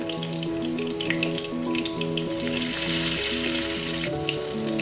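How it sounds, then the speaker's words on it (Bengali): Cut potato pieces fry in deep hot oil for a quick chicken dish, a dense steady crackling sizzle with a faint tonal melody running underneath. "এবার সেগুলো আমি ভাজতে দিয়ে দিলাম"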